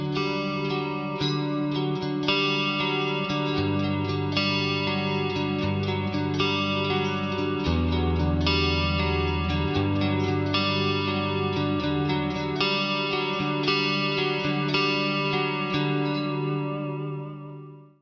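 A Boss Katana amp plays a clean, Rockman-style 80s guitar tone through lush modulated reverb, with chorus-like shimmer on chords and a lower bass-line riff, sustained for about eighteen seconds before fading out, with no talking.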